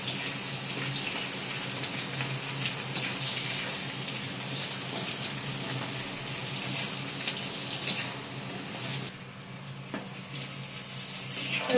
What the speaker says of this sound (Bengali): তেলটা গরম হয়ে গেছে, পেঁয়াজ দিয়ে দিই